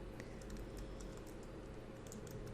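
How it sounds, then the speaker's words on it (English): Faint rapid clicking of typing on a computer keyboard, steady keystrokes under a constant hum of background noise, no talk. "I'm going to type"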